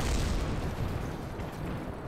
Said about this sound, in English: Actually, the explosions made it kind of cooler, because they didn't actually really impact me much.